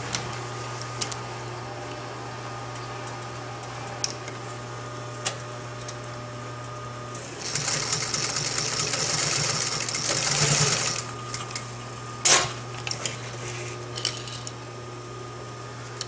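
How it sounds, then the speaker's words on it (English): A sewing machine stitches a nylon strap martingale collar, its fast buzzing run lasting a few seconds over a constant motor hum, followed by a sharp click and a few small handling taps. "You'll notice I'm not going all the way to the edge with my stitching."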